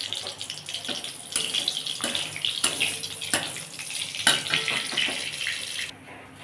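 Panch phoron and dried red chillies hit hot oil in a kadai, giving a steady close sizzle with scattered sharp crackles that cuts off abruptly at the end.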